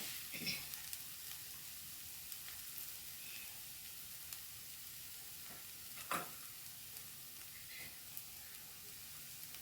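Food sizzles steadily in a hot pan with curry leaves and coriander added, as a spoon stirs it in a few distinct scraping strokes, the frying hiss close and constant underneath.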